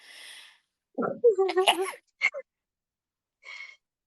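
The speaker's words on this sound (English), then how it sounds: "I'm totally gonna sneeze, it's coming any second now." A short wind-up of breathy gasps builds into a sharp sneeze, followed by a brief exhale, recorded close with little background noise.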